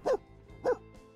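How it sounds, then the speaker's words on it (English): Two loud, close barks from a big dog in The Sims 4 life-simulation game, evenly spaced with a short gap between them and nothing else heard. "Oh god, squeaky dog. Big dog."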